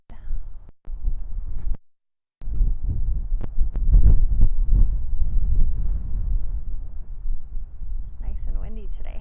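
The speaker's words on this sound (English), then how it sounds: "It's nice and windy today" Low rumbling gusts of wind buffet the microphone, loud and continuous with a brief dropout, while a voice is faintly present.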